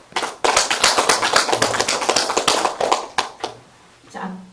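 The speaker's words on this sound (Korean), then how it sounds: "이 12권에 대한 축하의 박수를 한번 부탁드리겠습니다" Audience applause celebrating a poet's twelfth poetry collection, a dense burst of clapping that runs steady for about three seconds, fades out, then a brief lighter patter returns at the end.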